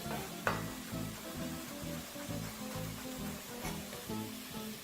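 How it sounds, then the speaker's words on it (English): Chickpeas pop and sizzle in a soup pot along with sweet corn, chili and bacon, a steady close frying hiss broken by a few sharp pops, with no voices over it. "You can actually hear the popping sound. That's all the chickpeas trying to really lose out on all that water."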